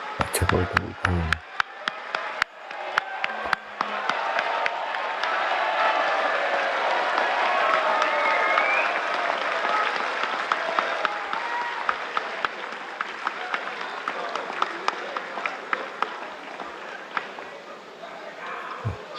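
An audience at a presidential inauguration speech applauds in a sustained, dense burst of clapping after a brief start, steady and loud for most of the clip, with a few sharper claps standing out.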